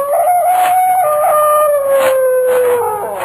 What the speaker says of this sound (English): I heard the cry of a dog, and the sound of it filtered through and was carried along by the night air